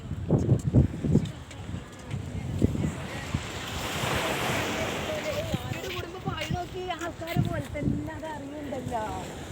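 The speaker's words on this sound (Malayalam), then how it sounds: "തിരമാല അടിക്കുന്ന കണ്ടില്ലേ" Sea waves surge and crash against the Beypore breakwater at the port, a loud continuous roar of surf mixed with heavy wind buffeting the microphone, with a voice faintly heard under it.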